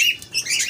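Pet lovebirds flap their wings close by in a quick, fluttering burst of airy wingbeats lasting under a second, with no talking.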